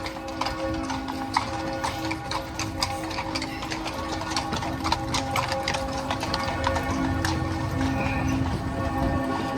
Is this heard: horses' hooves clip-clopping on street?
yes